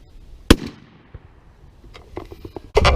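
A Winchester SX4 shotgun fires Remington Nitro 3.5-inch number 5 turkey loads at a 30-yard target, two sharp close blasts about two seconds apart with faint clicks and handling noise between them.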